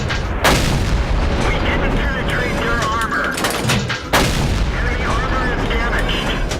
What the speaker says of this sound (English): I'm really annoyed by the constant barrage coming from my direction